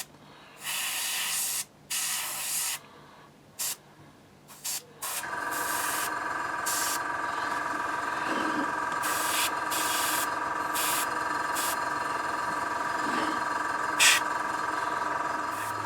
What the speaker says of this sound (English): I've just altered the pressure slightly on the airbrush. It's more controllable now.